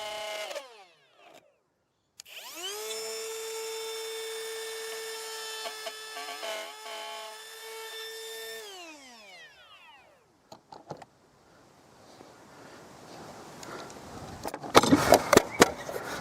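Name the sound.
power tool cutting spline slots in wooden box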